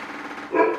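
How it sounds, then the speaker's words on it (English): A single short dog bark rings out indoors near the end, moderately loud and a little distant against a soft room background. "You can hear my dog barking."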